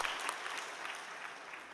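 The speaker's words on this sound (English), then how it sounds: "let us welcome them with a big round of applause" An audience claps in welcome for visiting participants from Japan, a brief, dense wash of applause heard from a moderate distance with no speech over it.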